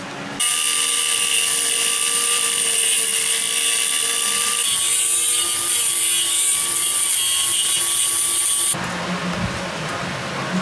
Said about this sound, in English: what we have to do is cut some drainage slots down below